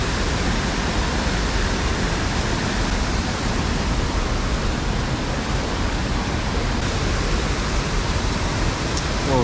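Strong current rushing over a creek spillway, a loud, constant roar of churning water with no break, close and unvarying.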